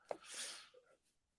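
A single short sneeze, faint and close, with a breathy burst tapering off into silence.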